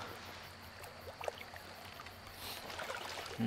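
A boat glides across water in the horror game Outlast 2, a soft continuous wash and trickle of water with faint splashes under a low hum, steady and fairly quiet throughout.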